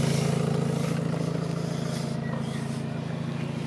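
A Renault Megane R.S. 300 Trophy five-door automatic idles close by, its exhaust a steady, low, throbbing drone with no revving.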